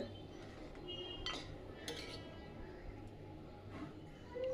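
A spoon stirs and mixes dried chickpea (harbhara) curry in a pot, giving faint intermittent scraping clinks against metal, with a person talking softly.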